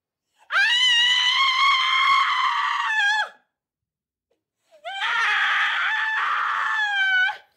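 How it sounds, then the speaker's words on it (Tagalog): Two long, loud, high-pitched screams, each lasting a few seconds, separated by a brief silence and wavering at the end. "Isang malakas na sigaw ang gumising sa katahimikan ng hating gabi."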